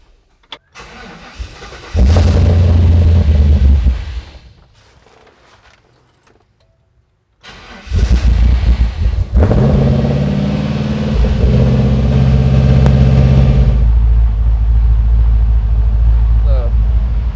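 An LS V8 engine in a 1949 Chevy cranks and catches with a loud roar, cuts out, then cranks again and settles into a loud, rumbling idle despite a camshaft position sensor fault; keys jingle and voices speak briefly.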